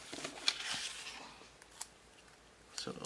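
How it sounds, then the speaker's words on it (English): Scissors snip through planner paper in a few quick, close cuts, each a short crisp crunch with brief pauses between, quiet and without speech. "Try not to tear my paper, which I see I already kind of cut it."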